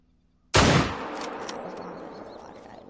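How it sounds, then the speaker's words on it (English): A single .303 rifle shot fired in a hunting video game, a sharp loud crack after a moment of quiet, followed by a long rolling echo that fades slowly over a couple of seconds. "take that down with the 303 real quick so I can hear the sound"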